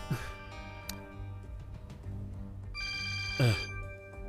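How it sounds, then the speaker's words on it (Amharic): A telephone rings in repeated bursts, fairly close, with a brief murmur of voices and background music underneath. "አይሴጉል እየደወለች ነው።"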